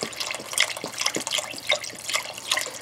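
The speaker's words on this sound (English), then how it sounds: "I'm going to add the stock. It's going to sizzle." Stock poured into a pot of sautéed vegetables for split pea soup, a close run of liquid splashes and drips with irregular sizzling bursts, fairly quiet.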